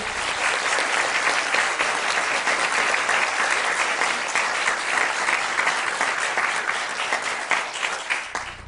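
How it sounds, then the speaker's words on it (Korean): A university lecture hall crowd gives sustained, full applause welcoming the OB Beer chief executive, a thick, even roar of many hands clapping from start to finish. "큰 박수로 환영해 주십시오"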